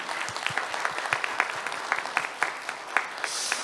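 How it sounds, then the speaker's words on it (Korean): Scattered applause from a modest audience at a district public debate forum, individual claps standing out in a loose, uneven rhythm, moderately quiet and sustained for several seconds. "우리 통장님한테 여기 박수 한번 쳐주세요"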